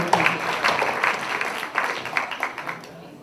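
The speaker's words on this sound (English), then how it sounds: "Please give him a round of applause." An audience at a university event gives a round of applause, a moderate crowd of hands clapping that gradually thins and tapers off.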